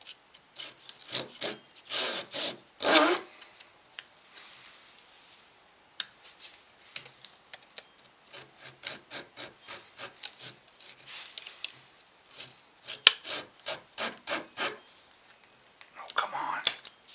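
Wood being cut for a guitar neck pocket, close, rhythmic rasping strokes in bursts with short pauses, some quiet whispering in between.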